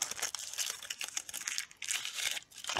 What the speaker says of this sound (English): there's so many tin foil pieces